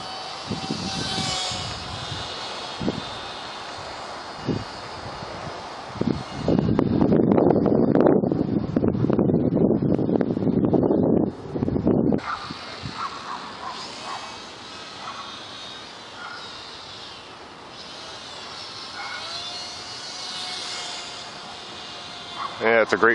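A small WLToys Cessna-182 F949 three-channel RC plane flies outdoors in high wind, its thin motor whine coming and going with heavy wind buffeting on the microphone and a louder rushing stretch in the middle.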